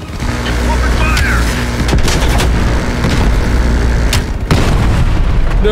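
Sustained gunfire and booming explosions from a Call of Duty: Black Ops Cold War battle, loud and dense throughout with sharp reports and heavy low rumble, with shouted voices mixed in.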